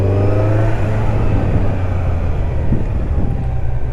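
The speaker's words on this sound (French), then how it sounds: "Le Z900 avec cette motorisation de 4 cylindres qui est plutôt chantante" A Kawasaki Z900's four-cylinder engine runs loud and close with a steady, humming growl that shifts pitch slightly as it revs, continuous throughout with no voices.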